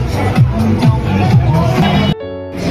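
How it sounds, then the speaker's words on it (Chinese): Dense rush-hour crowd of after-work commuters packing a narrow lane in a Shenzhen urban village, with a close, steady hubbub of footsteps and overlapping voices that cuts off abruptly near the end. "人流量好大呀。 现在是下班的高峰期， 都是下班的深漂一族。"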